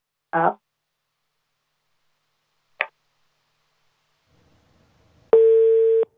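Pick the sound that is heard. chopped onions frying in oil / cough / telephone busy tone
telephone busy tone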